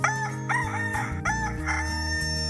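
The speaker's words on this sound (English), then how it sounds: "a rooster crowed and Peter realized what he had done" A rooster crows loudly and clearly in a drawn-out cock-a-doodle-doo with a few clucks and fowl calls mixed in, up close and alone without speech.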